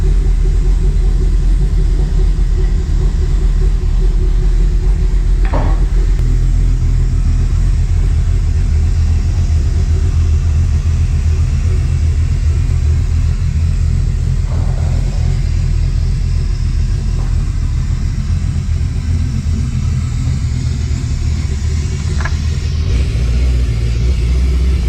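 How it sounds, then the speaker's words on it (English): A Dodge Dakota R/T truck's 5.9L Magnum V8 runs loud and close, a deep continuous rumble with an occasional brief rev as the truck moves out of a garage under its own power. "It's gonna be the first time this truck has moved under its own power."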